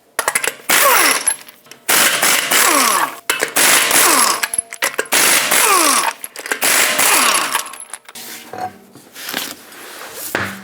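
An impact wrench with a 21mm socket removes five lug nuts from a front wheel of a 2014-2019 Toyota Highlander, sounding as loud, rattling bursts separated by short pauses, close up and with no voices.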